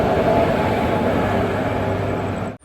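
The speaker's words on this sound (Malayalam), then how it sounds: "ട്രെയിൻ ഇപ്പോൾ ഇതാ തിരുവനന്തപുരം സെൻട്രൽ റെയിൽവേ സ്റ്റേഷനിലേക്ക് എത്തുകയാണ്" The Amrit Bharat Express rolls into Thiruvananthapuram Central, a loud, steady rumble of wheels and carriages that holds close throughout and then cuts off abruptly.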